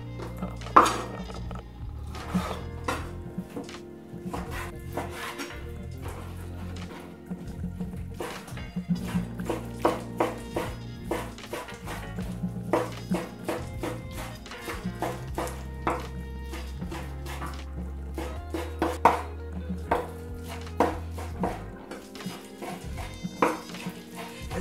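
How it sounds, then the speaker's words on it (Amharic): A knife chopping raw chicken breast by hand on a board, producing a steady run of sharp, close taps and thuds that continue for a long stretch with no talking. "እዚህ ጋር እኔ በእጄ እንደዚህ እየከተፍኩ ማሳያችሁ"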